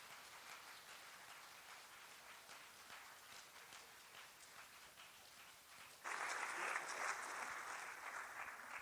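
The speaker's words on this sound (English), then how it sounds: "Can we get a big round of applause for our panelists?" Audience applause for conference panelists at a journalism conference, a steady dense patter of clapping that swells sharply louder for the last few seconds.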